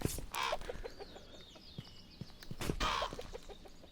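Chicken clucking in the VR game A Township Tale, short clucks and bursts rising twice over low game ambience, fairly close and with no speech.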